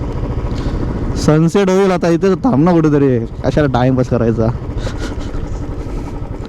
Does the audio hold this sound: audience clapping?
no